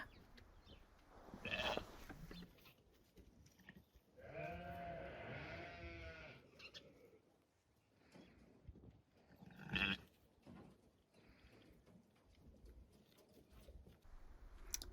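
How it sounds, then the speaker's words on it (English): Sheep and lambs outdoors bleat in several separate calls, some short and faint, one longer wavering bleat, over quiet outdoor background. "So here's Ludo and her lamb, outside with Naughty Girl and her lambs, all getting to know each other."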